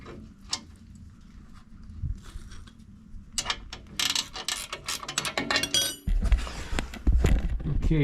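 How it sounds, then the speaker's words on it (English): A wrench ratchets while tightening a bracket on an LP propane tank cover for a Eurovan, giving close, irregular metallic clicks and clinks that grow busier and louder toward the end. "Let's see if we can hold this with a wrench just to make it a little easier to try to get it started."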